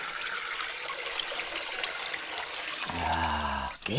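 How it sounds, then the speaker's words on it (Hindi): Water is poured out of a container while rubber sheets are made by hand in freezing weather. It makes a loud, steady, close splashing rush that ends with a bubbling glug, and no one speaks. "तो अभी इस पानी को ना निकल डालेंगे"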